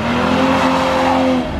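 A 2019 Toyota GR Supra sports car drives on a slightly wet road, its engine note a loud, steady harmonic drone that holds for over a second before easing off, with no talk over it.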